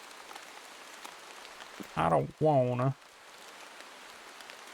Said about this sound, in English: The rain and the thunder, definitely